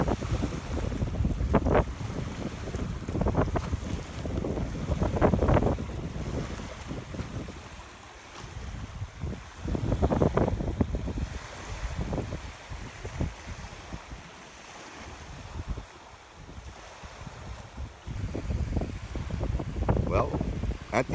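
Strong gusty wind blows on a Cape Breton Island beach, buffeting the microphone in loud, uneven surges with surf rolling underneath and brief lulls between gusts.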